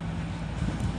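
Interior of a moving first-class train carriage: a steady low rumble with faint rolling rail noise throughout, close and continuous, with no voices.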